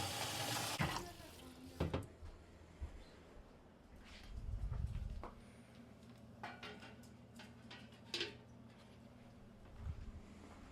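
Water runs and splashes from a tap into a raised dog water bowl, with a burst early on, a low rushing swell midway, and occasional clinks.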